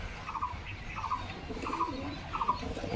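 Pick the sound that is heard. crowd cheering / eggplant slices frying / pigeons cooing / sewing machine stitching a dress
pigeons cooing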